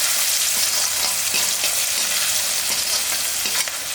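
Whole shallots fry in hot oil in a pan for vatha kuzhambu, giving a loud, close, continuous sizzle with light stirring knocks and no talking.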